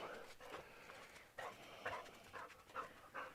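A dog pants in quick, rhythmic bursts close by, with brief pauses between breaths and faint background noise.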